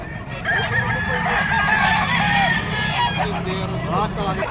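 A super brown red stag rooster crows loudly and close at the Bocaue pet market, its drawn-out call rising over a crowd babble and other clucking fowl, with people talking nearby.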